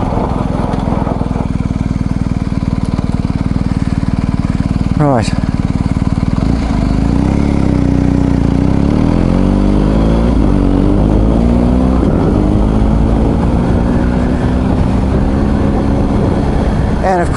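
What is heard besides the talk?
BMW R1250 GS Adventure motorcycle braking heavily on pea gravel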